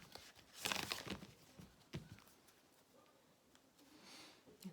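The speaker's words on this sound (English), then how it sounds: "let me go ahead and shuffle my angel cards here" Quiet papery riffling and snapping bursts as angel cards are shuffled, a flurry of card handling followed by softer scattered flicks and rustles, close by.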